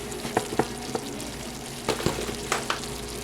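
Seasonings such as paprika, oregano and garlic powder being stirred into a sizzling pan of meat for homemade lasagna: a steady frying hiss with irregular scraping clicks of the spoon, close and fairly quiet, with no talking.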